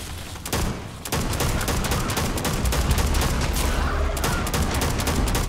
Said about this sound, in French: ce fusil d'assaut là. Bon, c'est du coup par coup, mais ça fait quand même le travail.